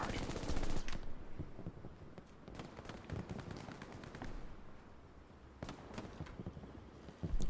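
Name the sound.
tank machine gun fire in Hell Let Loose video game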